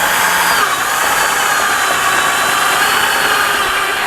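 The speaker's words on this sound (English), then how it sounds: "I've got another self-tapping screw that I'm going to drive through the 2 layers" Power drill driving a self-tapping screw through two layers of metal gutter, a loud, steady high whine that runs unbroken for several seconds, close by and without talk.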